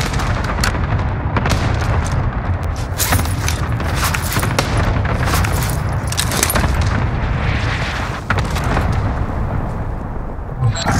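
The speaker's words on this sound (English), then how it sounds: "Cluster strike away." Cluster strike explosions in Call of Duty: Warzone, with a loud, sustained barrage of booming blasts and sharp cracks that rolls on for about eleven seconds, and a game voice in the background.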